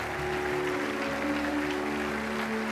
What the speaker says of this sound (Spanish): Dale ese aplauso grande porque somos felices, porque damos, porque sembramos.